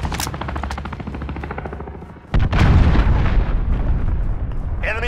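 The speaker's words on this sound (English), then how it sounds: "Enemy cruise missile." Cruise missile strike in Call of Duty Modern Warfare: a sudden heavy explosion erupts midway, followed by a sustained loud rumbling roar, with earlier gunfire and combat noise beneath.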